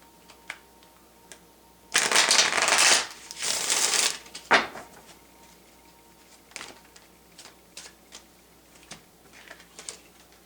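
A deck of tarot cards is shuffled at a table. Two quick, close riffling bursts sound back to back, followed by a few faint taps and card handling in a quiet room.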